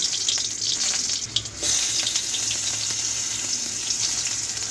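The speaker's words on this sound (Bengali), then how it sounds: "তার ভিতর টমেটোগুলো দিয়ে দেবো।" Tomatoes hit hot oil in a wok for a Bengali mashed dish, giving a loud, close, continuous rushing sizzle with a brief dip partway, no talk.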